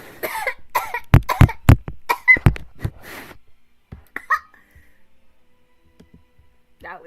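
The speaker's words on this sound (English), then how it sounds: "I cough." A person coughs several times in a quick burst of sharp bursts, followed by a brief voice and a few faint later sounds; close and fairly loud at the start.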